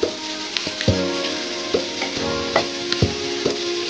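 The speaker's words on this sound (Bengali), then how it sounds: "এই পেস্টটা আমি 2 মিনিটের মতন এইভাবে ভেজে নেব" A paste of ground peanuts fries in oil in a pan for a yardlong bean curry, a steady close sizzle broken by regular knocks and scrapes of a spatula stirring, with no talk.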